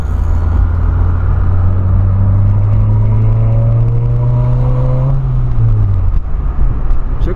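A Volkswagen Polo with a sport exhaust revs hard, a loud, deep, droning exhaust note climbing in pitch through a sustained pull before dropping off near the end, close and without talk.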